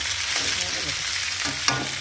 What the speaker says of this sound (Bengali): পেঁয়াজ দিয়ে দিচ্ছি, পেঁয়াজ আলুটা ভাজা ভাজা হবে